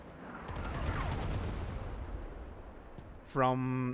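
Artillery fire in a multiplayer strategy game, a rumbling barrage of booms and gunfire that tapers off before a sudden loud tonal game sound cuts in near the end.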